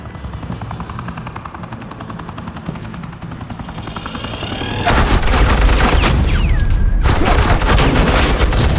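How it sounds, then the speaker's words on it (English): Suppressing gunfire in Batman: The Telltale Series, with a steady rotor-like thrum giving way to a dense, loud volley of rapid shots and a brief whine, continuous and close. "suppressing fire."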